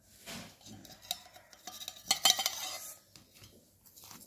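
Dry ingredients for a semolina biscuit dough with salt, black and white cumin and baking powder are stirred in a bowl, giving soft scraping and a few light clinks of a spoon against the dish, close and fairly quiet.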